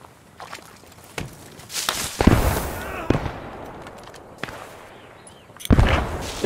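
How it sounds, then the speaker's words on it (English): Scattered gunshots crack in Post Scriptum, a WWII shooter, with irregular sharp reports, some near and some distant, among footsteps, while players talk over the fire. "I'm under enemy fire"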